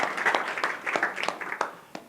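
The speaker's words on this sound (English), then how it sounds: "A big warm round of applause" A crowd applauds a speaker at a panel event on tobacco harm reduction in South America. The clapping is dense and steady, with a few sharper individual claps standing out near the end.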